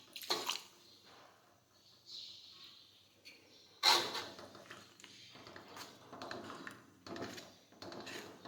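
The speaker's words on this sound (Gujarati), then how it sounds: "હવે આપણે તેમાં દૂધ નાખીશું." Milk poured into a pan of cooking bottle gourd halwa: soft liquid splashing and pouring sounds come in several uneven bursts, close and fairly quiet, with a stronger splash partway through.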